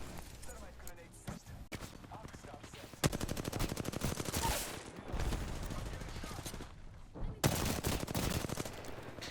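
Rapid gunfire in the battle royale video game Apex Legends as a teammate comes under attack, dense bursts of shots running through most of the stretch with brief gaps between volleys.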